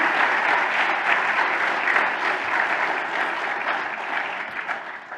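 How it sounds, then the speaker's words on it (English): Sustained audience applause at a prophecy conference morning session, a dense steady wash of many hands clapping close up for about five seconds, tapering slightly at the end, with no talk over it. "Let's give him another round of applause."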